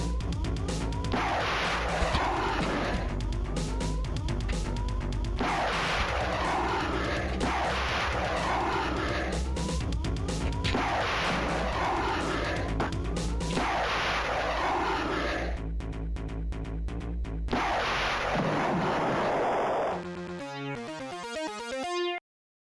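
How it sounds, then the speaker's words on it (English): Homing missiles in Star Control 2 launch and burst in repeated loud bursts with a continuous engine-like rumble underneath, then a stuttering glitchy tail at the end, with no talking. "I believe the amazing homing capabilities of these missiles"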